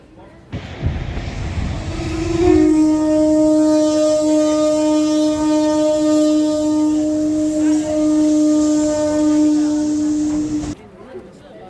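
Cartoon-style train sound effect for a Christmas-morning village trip: a sustained steady tonal hum with rumble runs loud and continuous for about eight seconds, then cuts off.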